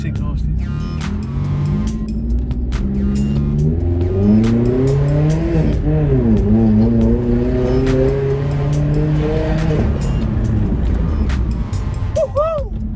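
A loud Opel Corsa with a new Cobra sports exhaust revs hard and accelerates up through the gears, its exhaust roaring with rising and falling pitch, close and continuous.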